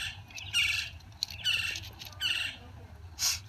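A bird squawks loudly and close in four sharp, harsh bursts spaced roughly a second apart, over a low steady background hum, with no talking.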